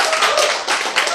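An audience at a health lecture claps hands together, a brief burst of many claps at close range with a faint tone running underneath.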